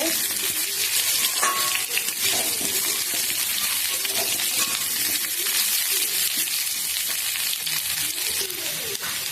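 Okra and other vegetables fry in a pan for a vegetarian curry, giving a continuous close sizzle with scattered clinks and scrapes from stirring throughout.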